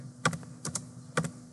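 Fingers type a bash script on a computer keyboard, three quick pairs of close key clicks spread over a second and a half against quiet room tone.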